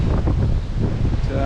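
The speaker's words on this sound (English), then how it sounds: "Probably hear how windy it is and see from the trees." Strong wind buffets the microphone in a loud, low rumbling roar, gusting unevenly with faint rustling behind it.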